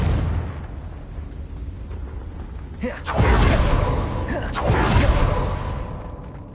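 A Confringo blasting spell in Hogwarts Legacy, a whooshing cast followed by two loud, roaring explosive bursts about two seconds apart over a rumbling game background, with a voice audible.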